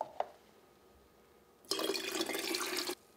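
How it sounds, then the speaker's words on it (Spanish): Water pours steadily into a lime drink mixture for a little over a second, a bright close splashing rush after a faint clink, then it stops. "vamos a estar añadiendo 3 tazas de agua, que también es lo mismo a 24 onzas de agua"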